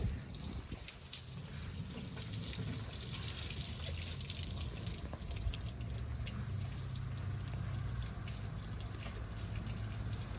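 Water hisses and patters steadily across a barn-find 1966 Mustang as it is rinsed off, a faint continuous spray with scattered drip and splash sounds.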